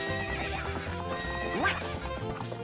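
A horse neighs in the video game The Legend of Zelda: Ocarina of Time Master Quest, a rising whinny near the middle over looping game music and clip-clop hoofbeats.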